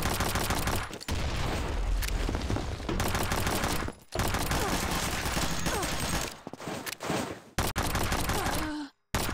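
Pistol and other gunfire in the shooter game Combat Master, dense loud volleys of shots broken by brief silences, with strained grunts and gasps from players.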